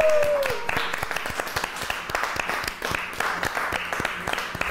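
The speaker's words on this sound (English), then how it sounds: "I'm surprised they clapping." Crowd applause from a small group of people at a prize competition, a steady patter of many hands clapping throughout, mixed with cheering voices and a brief whoop near the start.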